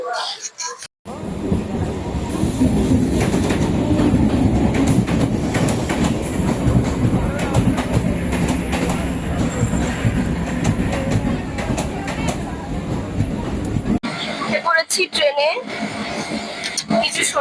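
A late-night train runs steadily on the rails with a continuous rumble and rhythmic clatter, loud and close inside a near-empty compartment, with people talking over it at times.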